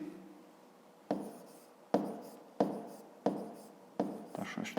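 Pen or pencil writing numbers on paper during a fifth-grade arithmetic exercise, five short scratchy stroke bursts in an uneven rhythm, close and fairly quiet, no talking.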